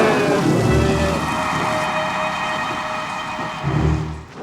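Steady rain falls in a scene from the 1986 horror film Poltergeist II: The Other Side, a constant wash of hiss with low rumbling swells near the start and end.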